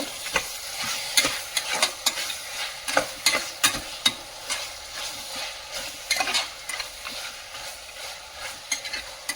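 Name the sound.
stirring spices and turmeric powder in pan for mutton biryani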